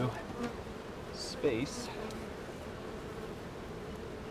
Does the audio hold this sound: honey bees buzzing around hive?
yes